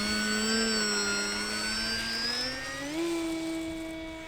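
Electric motor of an Eachine Airloader 1280mm RC bush plane on 4-cell power at takeoff throttle, a steady high whine that climbs in pitch partway through, loud and close with no talk.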